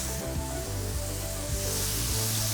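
Steaks and onions sizzling in a hot pan for a Cuban steak sandwich, a steady loud frying hiss with faint scraping underneath and no talk.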